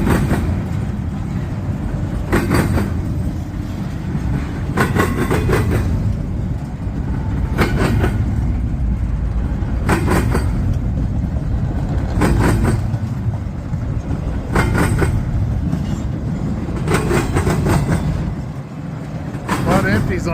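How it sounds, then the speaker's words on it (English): A long intermodal freight train rolls steadily past nearby, its wheels clacking over rail joints in a regular rhythm under continuous rumble, many cars following one after another. "5-minute video so far on an intermodal train."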